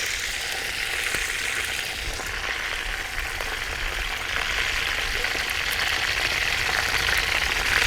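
Curry leaves crackle and sizzle in hot oil over a wood fire in a village kitchen, a dense, steady frying hiss with scattered pops running throughout, close and fairly loud, with no talk.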